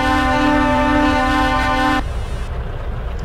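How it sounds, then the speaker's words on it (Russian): A truck horn gives one long, loud, steady blast lasting about two seconds and then cuts off, leaving the low hum of the engine in Euro Truck Simulator 2. "Кто там сигналит?"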